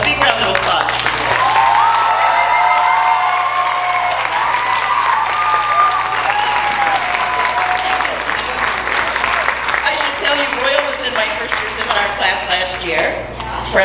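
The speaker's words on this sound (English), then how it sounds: "So please, a big round of applause for you." Sustained audience applause at a Chinese Dinner college event, a thick wash of clapping with scattered cheers and whoops, voices and chatter mixed underneath, tapering slightly toward the end.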